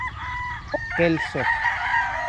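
A young rooster, a quality late-born banded stag, crows once nearby, a rising and falling cock-a-doodle-doo, with a few clucks and a brief word spoken by a man around it.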